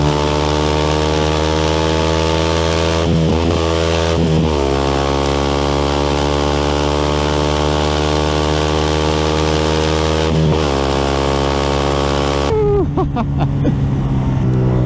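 A 2018 Yamaha YZF 125 motorcycle engine drones loudly at steady high revs, with a few brief dips, then the pitch drops as it eases off near the end.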